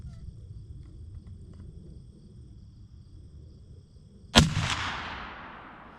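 A single sharp rifle shot fired while sighting in for hunting outdoors, loud and sudden after quiet low ambient rumble, its echo decaying over about a second.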